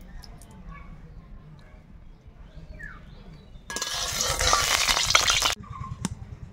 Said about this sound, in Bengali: কড়াই গরম হয়ে গেছে, এবার তেল দিয়ে দেব